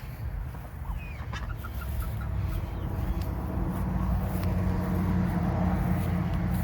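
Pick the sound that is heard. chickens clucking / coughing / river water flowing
chickens clucking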